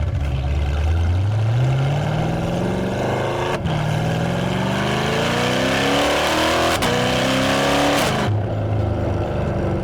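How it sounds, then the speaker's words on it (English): A Corvette C8 with a naturally aspirated V8, big cam, headers and high-flow cats, running on E85, blares its exhaust loudly and up close through repeated rising pulls, with sharp breaks between gears and downshifts. "It's definitely a good sound. You hear a lot of that exhaust."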